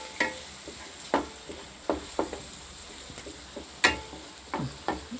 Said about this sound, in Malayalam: ഇതിലേക്ക് ഒഴിച്ച് നന്നായിട്ടൊന്ന് മിക്സ് ചെയ്ത് വഴറ്റിയെടുക്കണം.